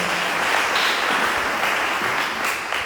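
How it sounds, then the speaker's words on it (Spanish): Congregation applauding during a church sermon, a steady dense wash of clapping that holds evenly loud for the whole stretch with no voices breaking through. "Demos aplauso a nuestro Dios."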